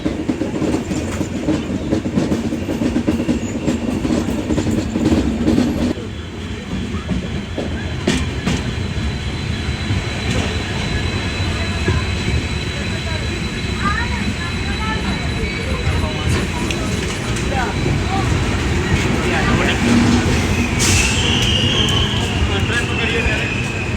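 A Kerala Sampark Kranti Express passenger train pulls into Mangaluru Junction, steady rumbling and wheel clatter close by throughout, with brief squeals and a horn-like tone late in the run.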